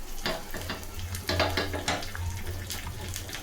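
Curry leaves sputter and crackle in hot oil, a busy continuous sizzle with sharper pops, close up.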